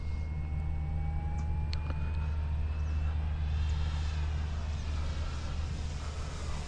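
A Super Tucano model airplane flying steadily overhead, its motor giving a continuous drone with a faint rising whine, under steady wind noise and low rumble.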